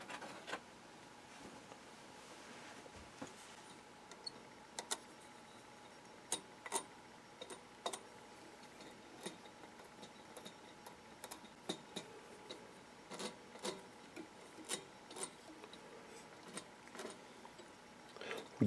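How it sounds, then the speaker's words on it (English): Scraping the end of a metal wire to expose fresh metal while working on a Dumont RA-102 Clifton radio: faint, close ticking scratches in irregular bursts over a quiet background, with no talking. "I need to scrape the end of that a little bit"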